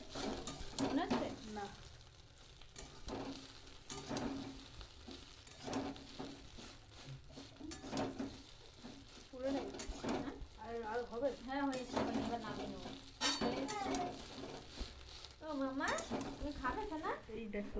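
An egg-stuffed snack frying in a pan, with steady sizzling broken by repeated pressing and scraping of a utensil, and a voice talking over the cooking in places.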